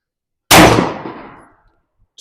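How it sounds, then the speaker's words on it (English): A single 9mm shot from a Ruger RXM pistol firing SIG 115 grain jacketed hollow points, a sharp loud crack with a decaying ring, then quiet and the start of a second report at the end. "let's test out these SIG 115 grain jacketed hollow points."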